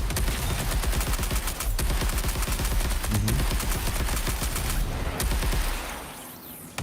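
Sustained automatic gunfire in a battle-royale style video game as a player shoots at a downed body. The rapid, steady shots run loud and continuous for about six seconds, then cut off abruptly.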